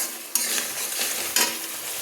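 A ground paste of green chili, poppy seed and mustard sizzles in hot oil in a pan, with a constant frying hiss broken by two sharp scraping stirs of a spatula.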